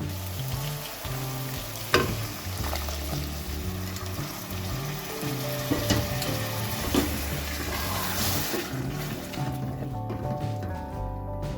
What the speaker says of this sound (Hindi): अब मैं इसमें ½ कप पानी डालूंगी